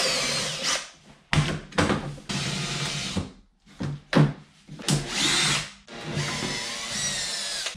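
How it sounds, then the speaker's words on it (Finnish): A power drill bores out pop rivets on the wheel arch of a Ford Mondeo. Several loud, whining bursts of a second or so each are separated by short pauses, with a grinding bite as the metal gives. "Porataan nämä popneitit irti."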